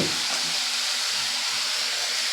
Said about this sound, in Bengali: এবার মশলাগুলোকে একটু নেড়ে চেড়ে ভালো করে কষিয়ে নেব।